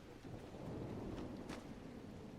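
Steady rain and rolling thunder from a storm in Dragon Age: Inquisition, a constant dense wash of rainfall with a couple of brief bright crackles rising out of it, loud and continuous with no voices.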